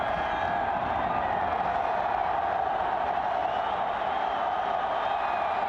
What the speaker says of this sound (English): And listen to the crowd again, turning up the volume.